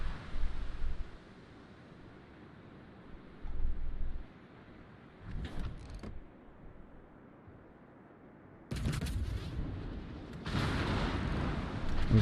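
Naval guns of the German cruiser Agir fire in World of Warships, heard as a few distant booms followed by two louder broadside blasts with rumbling tails near the end, over a quiet hum.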